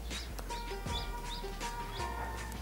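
Newly hatched chicks from a hen's natural brooding peep in quick, high, repeated chirps, quiet and close, several overlapping in an uneven rhythm over a soft low background hum.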